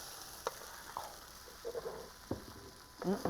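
Denver omelette mixture poured onto a griddle, giving a faint, low sizzle with a few soft scrapes and clicks from a utensil, no one speaking.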